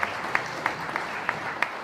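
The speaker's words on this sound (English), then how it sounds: "Give yourselves a round of applause." A crowd at a 2017 Democratic debate gives itself a round of applause, a dense, steady patter of clapping with a few sharper individual claps popping out at regular intervals.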